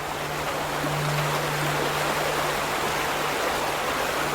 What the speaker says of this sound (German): Da kommt Wasser aus dem Haus.